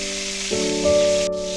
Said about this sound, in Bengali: ভেজে উঠিয়ে রাখা তার মধ্যে অল্প একটু তেল নিয়ে টমেটোগুলো দিয়ে নিচ্ছি